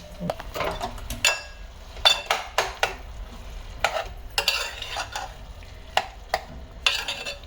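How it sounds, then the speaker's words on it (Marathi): Grated bottle gourd sautéed in ghee for halwa, with a soft sizzle under frequent irregular scrapes and stirs of a spoon against the pan, close by and without talk. "हा जो पण शिजवलेला दुधाचा किस आहे तो सगळा ह्याच्यात घालून छान तुपावरती परतून घ्यायचं आहे व्यवस्थित"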